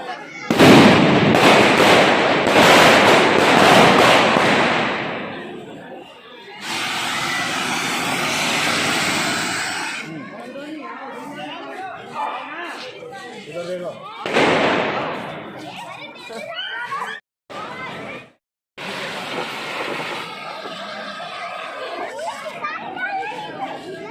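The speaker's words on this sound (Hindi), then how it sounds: "मोमबत्ती लगाकर बच्चे आतिशबाजी छुटाते हैं।" Children set off fireworks with candles at the Satwara Chowki religious site on a full-moon day, with loud crackling bursts and whooshing blasts spread over the scene, mixed with busy voices and crowd chatter close by.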